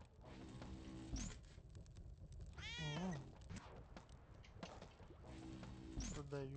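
A cat meows a few times at fair distance, with people talking quietly in the background over a steady low hum.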